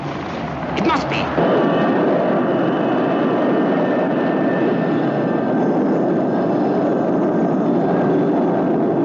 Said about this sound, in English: It's a search plane.